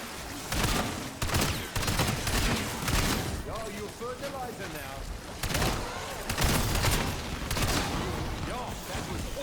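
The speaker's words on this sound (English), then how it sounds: "There goes fireworks." Dense crackling bursts of fireworks erupt in rapid, irregular volleys throughout a Black Ops 7 Zombies match, loud and continuous, with busy game sounds mixed in.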